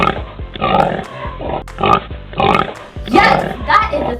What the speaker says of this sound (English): The pig makes a sound.